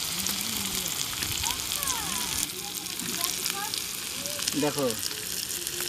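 Chicken cooks in a pan at a family picnic, a steady hissing sizzle running underneath as people chat and talk over it close by.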